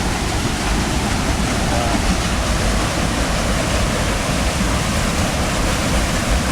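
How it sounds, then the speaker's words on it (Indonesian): A river rushing near Curug Cibeureum waterfall, a dense, unbroken roar of flowing water, loud and close throughout with no voices. "Dan kita menemukan sungai"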